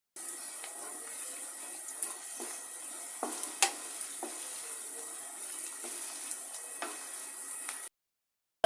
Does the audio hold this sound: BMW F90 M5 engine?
no